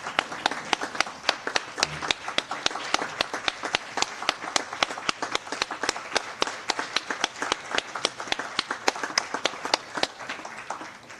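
Applause at a board of education meeting for two retiring staff members: a modest group clapping in a steady, distinct rhythm of individual claps that carries on evenly for several seconds, fairly near.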